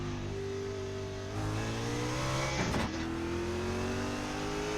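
Simulated race car in iRacing leaving the pit lane without a speed limiter, a steady close engine tone that shifts gear and climbs again, with a brief burst of noise midway.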